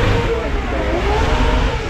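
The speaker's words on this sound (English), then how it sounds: "And here we are, Aston Martin Bulldog." A loud, turbocharged V8 engine of the Aston Martin Bulldog supercar rumbles and revs at the Goodwood Festival of Speed start line, a close, continuous roar.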